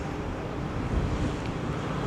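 Steady wind buffets the microphone in a broad, rumbling roar on an outing in Llandudno, Wales, constant and fairly loud with no voices.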